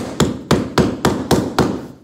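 Hammer taps luxury vinyl plank flooring into place, six firm evenly spaced knocks close by with no talking.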